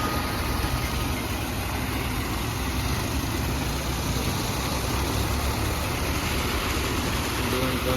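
Several motors pumping water out of a flooded construction site in Amaravati run as a loud, continuous mechanical drone with rushing noise that never lets up.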